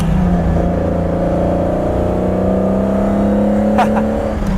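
Lamborghini Espada engine accelerating, a loud steady drone whose pitch climbs smoothly over several seconds, heard from inside the car with no talk.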